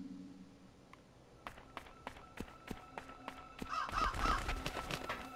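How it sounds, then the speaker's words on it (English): In the horror game Crow Country, crows caw a few times amid a steady series of footsteps, the calls clustering in the final seconds over quiet background ambience. "Oh, there goes the crows!"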